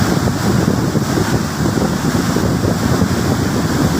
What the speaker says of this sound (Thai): ฟังเสียงน้ำครับผมพี่น้อง